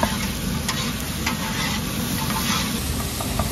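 Chole masala frying in a pan at a Mayapuri chole kulche street stall, a loud, dense, continuous sizzle with faint clicks of stirring throughout.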